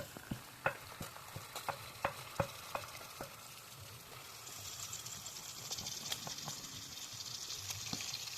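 Chicken is added to fried onions in a pan, giving a few stirring clinks and scrapes followed by a steady, quiet sizzle that builds and continues alone.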